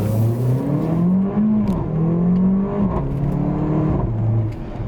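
A Mercedes GLA 45 AMG's turbocharged engine revs hard and close, its pitch climbing steadily then dropping at each gear change, a loud continuous growl with no talking.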